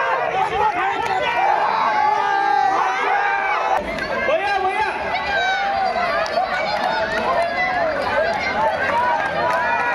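Spectators at a Kamrup district tug of war championship on Bihutoli Field in Rukminigaon, Guwahati, form a dense, loud crowd roar of shouting and cheering that stays steady throughout, with voices chattering within it.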